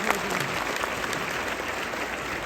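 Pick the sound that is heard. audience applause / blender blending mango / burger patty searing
audience applause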